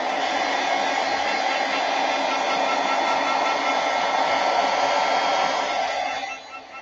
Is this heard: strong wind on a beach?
no